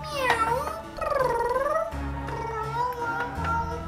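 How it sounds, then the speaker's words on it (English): A cat meows several times, drawn-out and wavering in pitch, close and fairly loud, as part of a Halloween toy play scene in a haunted house. "Hey, it's a cat."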